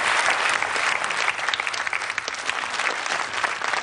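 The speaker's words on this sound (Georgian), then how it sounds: "ტაშს რატომ მიკრავთ?" A studio audience at a Georgian television show claps steadily and loudly in dense, continuous applause that carries on without a break.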